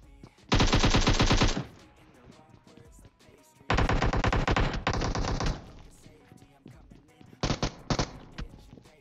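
Enemy automatic gunfire in PUBG Mobile, loud rapid bursts in three volleys with short gaps, the last burst shorter and mixed with scattered single shots.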